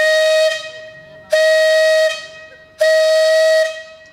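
An old steam locomotive whistle opens a harvest festival at Ausakļi watermill in Latvia, sounding three loud, sustained blasts, each about a second long with short gaps between, close and clear.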